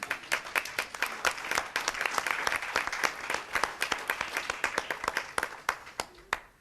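A city council meeting audience claps for behind-the-scenes staff, a lively round of distinct, close hand claps running steadily throughout with a few faint voices underneath.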